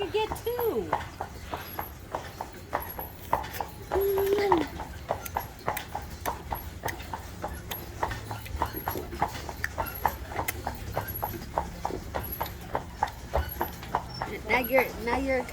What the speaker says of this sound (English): Now you're accompanying the horse's stomps.